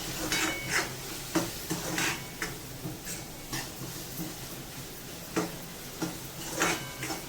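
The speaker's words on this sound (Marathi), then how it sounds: "व्यवस्थित हे मिक्स करून घ्यायचं आपल्याला" A spoon scrapes and clinks in a pan while Byadgi and Kashmiri red chili powder is mixed into an onion-potato curry, a series of irregular, close metallic taps and scrapes over a faint sizzle.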